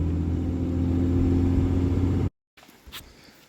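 A truck with a swapped HO Cummins diesel engine running, a steady low rumbling drone heard close that cuts off abruptly, followed by faint quiet background noise.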